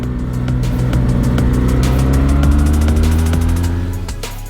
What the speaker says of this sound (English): the big exhaust pipe. It's beautiful with a great sound